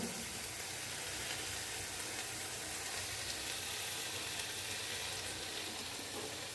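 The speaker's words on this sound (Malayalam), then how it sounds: "ഇനി ഇത് ഒത്തിരി എണ്ണ അതിൻ്റെ മുകളിലൂടെ ഒഴിച്ച് കൊടുക്കാം" Oil poured over dried stingray sizzles steadily in a pan, a continuous broadband hiss with faint crackle, close and fairly quiet, no talking.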